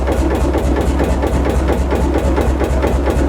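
A working semi-diesel boat engine runs steadily at close range, its deep, even low-frequency thump loud and unbroken with a mechanical clatter on top, no voices.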